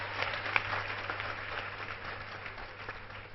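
A church congregation applauding together, a steady wash of clapping from many hands heard from a distance at a soft, even level.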